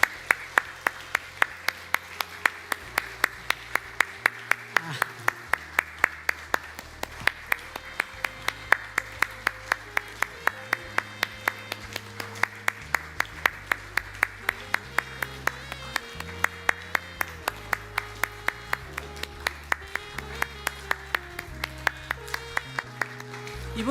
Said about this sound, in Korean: 축하박수